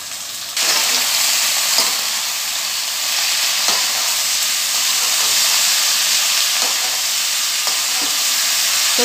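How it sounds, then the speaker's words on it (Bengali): Mixed vegetables and slit green chillies fry in a pan with a loud, steady hiss of hot oil, broken now and then by light clicks of stirring. "সবজিগুলো এখানে ভাজা হচ্ছে।"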